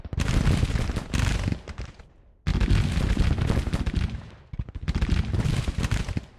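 Musket and artillery fire in a Civil War strategy video game, a dense, loud continuous roar of massed volleys and booms in long waves with a brief lull partway through.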